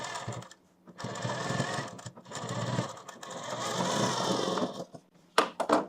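A sewing machine stitches a kurti in short, close bursts of rapid mechanical whirring, broken by brief pauses and ending in a few quick separate clicks.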